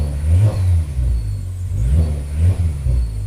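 A car engine, newly repaired after a misfire, idles and revs in repeated rises and falls, loud and close with a deep steady rumble, no voices.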